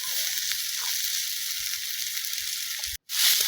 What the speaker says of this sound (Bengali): লাস্টে চাউমিনটা দিয়ে দিলাম।